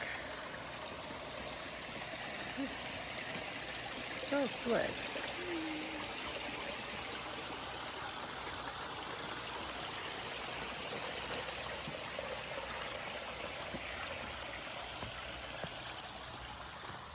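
Stony Brook, a stream along a forest trail, flows with a continuous steady rushing and gurgling, moderately close, while a person speaks briefly over it.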